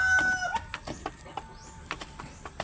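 Chickens cluck in short, irregular bursts at close range, with a brief crowing call near the start.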